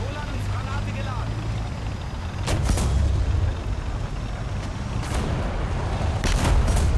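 A Leopard 2K tank's cannon firing in War Thunder: a couple of sharp booms over a constant low engine rumble, with a voice talking through parts of it.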